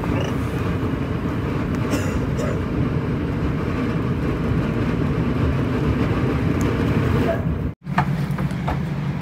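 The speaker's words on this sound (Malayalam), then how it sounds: "ഇത് നമ്മൾ റെയിൽവേ സ്റ്റേഷനിലെത്തി" Rumble of a train at an old railway station runs steadily throughout with rattling wagon noise and a few faint clanks, briefly cutting out near the end before resuming.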